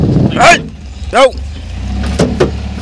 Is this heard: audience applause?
no